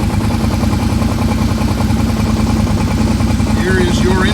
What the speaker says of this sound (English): Here is your engine braking.